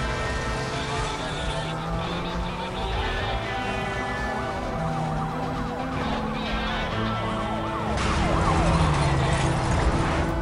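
Several police car sirens wail in the Need for Speed Most Wanted video game, loud and continuous, overlapping with engine noise during a chase and swelling louder near the end.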